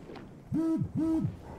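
Two identical short electronic tones sound in quick succession, clear and close, like a phone notification chime.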